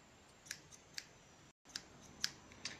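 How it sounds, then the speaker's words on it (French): Scissors cutting paper along a pencil line while making a small notebook, several crisp snips spaced about half a second apart, close and fairly quiet, with a short break partway through. "Et maintenant, on va venir y découper. Enfin, sur la ligne, ce serait pas mal."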